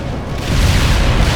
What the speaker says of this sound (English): Romanov, call in artillery and airstrikes on them.